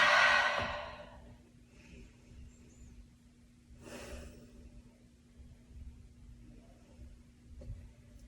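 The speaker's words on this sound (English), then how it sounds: "Take 2 deep breaths." A deep breath drawn and released in a quiet room during a stretching routine, a single soft breathy exhale near the start, followed by fainter breaths and low room hum with no talking.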